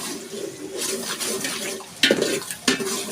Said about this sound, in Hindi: इलायची को हम भूनेंगे और सूजी को अच्छे से भूनेंगे